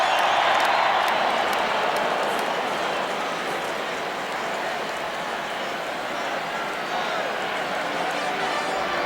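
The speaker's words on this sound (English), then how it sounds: "The appearance of Ken Herbeck at the plate brings the crowd to life" Baseball crowd at a 1991 World Series game, Braves at Twins, cheering for a batter coming to the plate: a steady, loud, dense roar of many voices that holds for the whole stretch without letting up.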